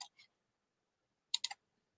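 Computer mouse clicks, one quick pair, a pause, then a rapid burst of three crisp clicks, close and quiet against silence.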